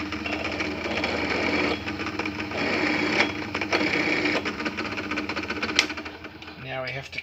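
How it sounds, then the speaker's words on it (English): A drill with a 7mm bit countersinking small 3mm screw holes for a motor mount, heard as a buzzing, rattling whir with short bursts and a brief pitch drop near the end, close up, with a voice talking over it. "Now the 7mm bit will do to countersink the little 3mm holes."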